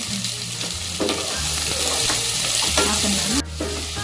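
Onions sautéing in a pan for a pakoda kuzhambu, a constant loud sizzle with repeated stirring scrapes of a spoon, close-up with no voices.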